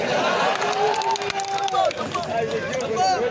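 Audience clapping at an outdoor poetry recital during a festival in Sanchore, Jalore, a dense burst of applause and crowd noise lasting a few seconds, loud and close, with voices mixed through it.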